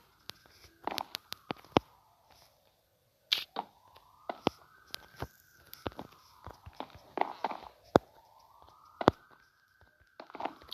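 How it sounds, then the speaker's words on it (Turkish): An ambulance siren wails past outdoors near a balcony being worked on, its rising and falling tone sweeping repeatedly at moderate distance, overlaid by frequent sharp knocks and taps from nearby work. "Ambulans geçiyor."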